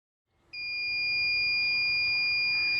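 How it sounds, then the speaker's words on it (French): A piercing high-pitched anti-theft alarm tone from a Bosch Indego 1200 Connect robot lawnmower starts abruptly and holds continuously, loud and shrill, with faint background noise beneath. "Le système d'alarme vient de se déclencher."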